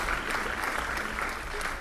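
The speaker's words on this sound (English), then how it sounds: "I need a little applause for that one" Audience applause at an electric vehicle conference presentation, a steady wash of many hands clapping at moderate distance, continuous and even for the whole stretch with no voices on top.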